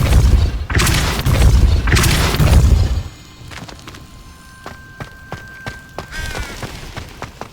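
A Depulso spell cast in Hogwarts Legacy: loud booming blasts and rumbling impacts fill the first three seconds, then fade into quieter scattered thuds, clicks and a thin sustained tone.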